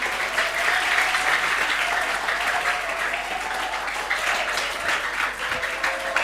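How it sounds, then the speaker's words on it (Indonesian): Sustained audience applause at a seminar on waste held at an Islamic boarding school, a dense steady clapping wash lasting the whole stretch, with a faint tonal hum or voice line running underneath. "Tepuk tangan buat kita semua."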